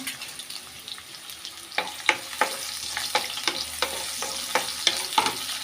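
Onions sauté in a pan with a little salt for a double beans gravy: a quiet sizzle at first, then a run of sharp, regular spatula scrapes and taps close by, no voices.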